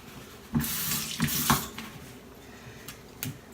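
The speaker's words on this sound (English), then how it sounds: "Maybe you should wash your hands first." A kitchen sink tap is switched on while hands are washed beneath it during home cookie baking, with bursts of splashing and rinsing that rise and fall, then a few faint drips and clinks as the flow eases.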